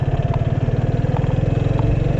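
A motorcycle engine idles with a steady, fast, pulsing rumble, loud and close, running continuously with no voices.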